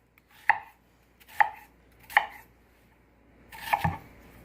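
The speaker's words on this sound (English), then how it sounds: "we're going to go ahead and start off by slicing the onion" A knife slices through onions on a cutting board for chicken and steak fajitas, four crisp, separate cuts about a second apart, close and alone with no talk.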